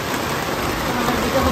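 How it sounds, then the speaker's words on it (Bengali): Rain patters steadily on surfaces near a home kitchen, an even hiss of drops with no breaks, moderately loud for the whole moment. "শুরু হয়ে গেল বৃষ্টি, এত গরম পড়েছে"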